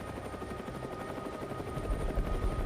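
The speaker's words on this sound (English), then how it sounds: "I don't know if you can hear that helicopter, folks" A steady, pulsing rotor chop of a helicopter fills the air, continuous and fairly loud, with no voices.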